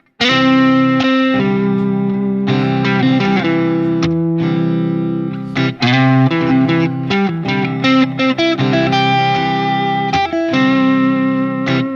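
Electric guitar through distortion and effects picking chord-tone arpeggio notes over a backing, a steady, loud flow of sustained overlapping notes with no talking.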